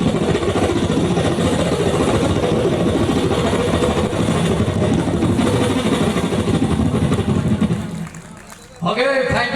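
A magician performing on stage imitates a helicopter with his voice, a loud continuous whirring drone held for several seconds that drops away briefly before a final vocal flourish.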